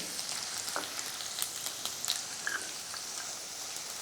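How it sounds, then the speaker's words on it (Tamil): Ginger and garlic sautéing in a pan for a kodo millet and plantain curry meal, giving a steady close sizzle with faint crackles and small pops throughout, no talk. "இதெல்லாம் சேர்த்து வதக்கிக்குவோம்"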